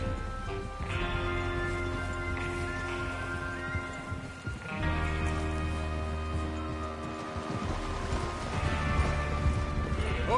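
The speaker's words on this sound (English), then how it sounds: "Get your horses ready." Horses in the Red Dead Redemption 2 game clop and move about with a whinny amid a dense layer of game music and ambience, loud and continuous throughout.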